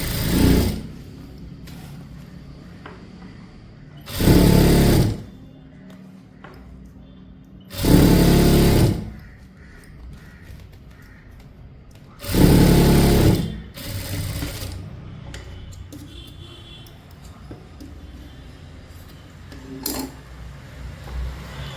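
A sewing machine stitches a churidar pant in several short bursts of rapid whirring, each lasting about a second, with quiet pauses and faint handling noises between them.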